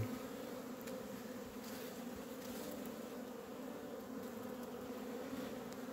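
Honey bees and drones crowded in a nucleus hive with a small super, a steady dense buzzing hum close by that stays constant throughout, with no voices.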